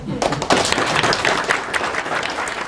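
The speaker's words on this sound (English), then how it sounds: "Applause today for a major advance" A crowd applauds at Harvard University as first results on light from the earliest moments of time are announced, dense steady clapping sustained throughout with some voices mixed in.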